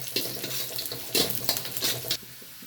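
Onion and garlic sautéing in a pan, a close sizzle with bursts of stirring and scraping, stopping abruptly near the end.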